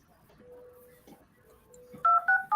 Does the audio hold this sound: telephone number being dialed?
yes